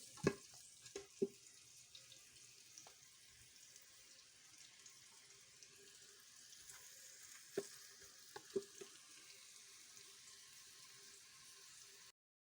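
Chopped onions fry in a pan on the way to a chicken curry, giving a steady soft sizzle for about twelve seconds with a few sharp clacks of stirring scattered through, and no voices.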